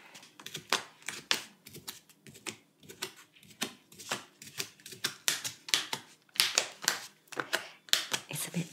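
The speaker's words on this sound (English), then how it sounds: "make some pin pricks" A pin is pricked repeatedly through paper into a Halloween pumpkin while marking an outline, giving close, crisp irregular ticks and scratchy taps in quick succession with no voice.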